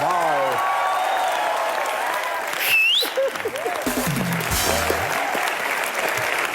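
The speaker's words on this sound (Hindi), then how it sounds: "जोरदार तालियां एक बार यार" A studio audience on a comedy talk show bursts into applause, dense and sustained, with a brief whoop and voices talking through it in the second half.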